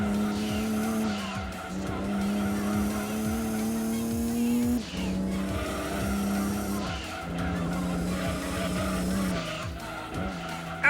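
Gran Turismo 2 racing game car drones with intake and exhaust noise, revs climbing through the gears with sharp drops at each shift, while tires squeal now and then, all steady and up front.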